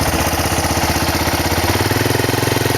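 An ATV engine with a worn, slipping centrifugal clutch revs loud and close, a steady throbbing mid-pitched drone pulsing rapidly under load, with no talking.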